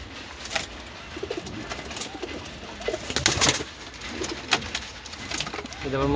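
Pigeons being shown for sale coo and flutter close by in a busy, noisy setting, with soft repeated coos scattered over a steady background and a brief rustle near the end.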